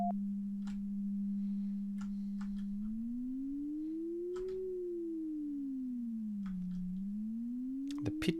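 A steady sine tone from a Karl2D audio program holds one pitch, then glides smoothly up and back down before climbing again, faint and alone with a few small clicks.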